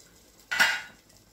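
A spoon stirs chicken biryani in a cooker pot, giving one short scraping clatter of metal against the pot that rises and fades within about half a second in an otherwise quiet kitchen.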